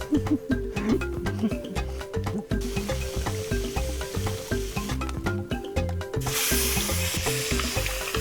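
Fresh fish sizzles and crackles loudly in a hot pan, a steady frying hiss with scattered pops and faint stirring.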